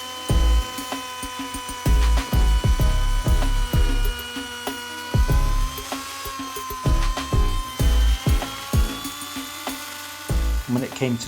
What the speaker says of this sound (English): I got the router out with a chamfer bit on and cut the chamfer into 2